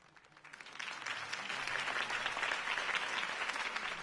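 Crowd applause after a campaign speech in Batman: The Telltale Series, clapping that swells within the first second and then carries on as a dense, even roar of many hands.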